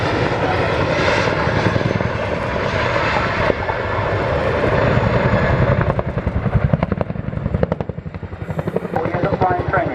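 A Chinook twin-rotor helicopter manoeuvres at an air show. Its loud, deep engine roar holds steady, then turns into a rapid rotor chop that beats louder and quieter as the aircraft turns.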